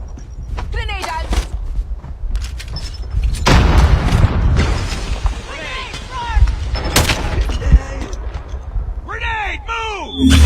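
Gunfire and artillery-like booms in a military shooter video game, with a grenade blast among repeated close, loud shots and bursts over a busy battle background, while radio-style callouts and a voice speak throughout.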